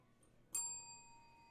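A single bell is struck once on a sports talk show, a bright ding that rings on as a clear sustained tone and fades slowly over quiet background.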